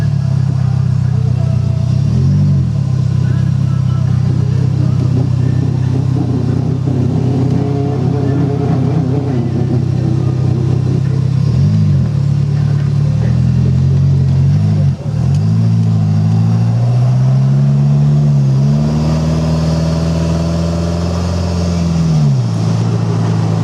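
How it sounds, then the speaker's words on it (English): A futuristic street bike with a small four-cylinder engine drives along, its engine loud and close, revving up and easing off several times as it accelerates, with someone talking over it. "With that little 4-cylinder, this thing will get up and go pretty good."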